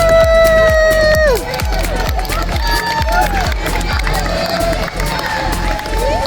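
Crowd at an Alaskan bathtub race cheering as the racers come past, loud and close, with shouts and whoops over a steady rhythmic pounding and people talking throughout.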